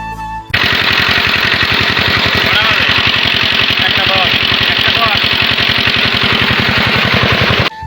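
An irrigation water pump engine runs in an open field, a loud, close, steady rapid chugging drone that starts abruptly and holds constant throughout before cutting off at the very end.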